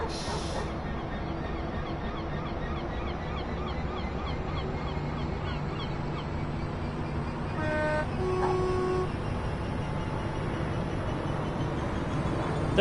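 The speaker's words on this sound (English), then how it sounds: "That just sounds so wrong, that horn." A train horn in the Train Sim 2020 game on the East Coastway route sounds as a couple of short, steady tonal blasts partway through, over continuous engine rumble and cab noise.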